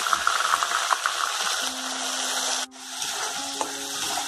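Onions fry with ginger-garlic paste in a pan for chicken rezala, giving off a steady, close sizzle broken by scraping stirs and a brief clatter, with a faint tone humming in the later half.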